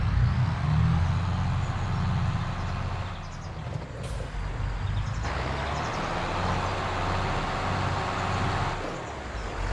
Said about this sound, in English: let's get inside one of the tractors and go for a ride.